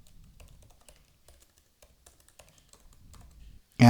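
Typing on a computer keyboard, a series of faint, quick, irregular clicks and taps in a quiet room, ending with a sudden louder burst of noise.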